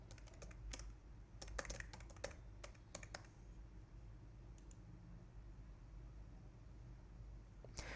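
Keys on a computer keyboard tap in quick bursts as a username and password are entered at a login screen, faint and near, with pauses between the clusters of clicks.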